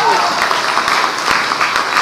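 Congregation at an Episcopal church in Corpus Christi, Texas applauding for birthdays: steady, dense clapping from many hands, loud and continuous for the full stretch with a few voices mixed in.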